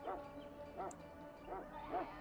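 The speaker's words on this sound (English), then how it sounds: "You're quite lucky to have your own Mabari warhound, you know." Mabari warhound in the video game Dragon Age Origins giving three or four yipping barks with whimpering tones at a steady rhythm, moderately close over a low ambient game background.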